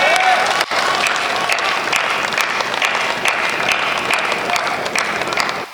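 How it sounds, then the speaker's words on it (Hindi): A crowd at a Hindi poetry recital by Kavita Tiwari claps loudly and steadily throughout, a dense close applause with no break. "आपने तालियां शायद इसलिए बजाई हैं"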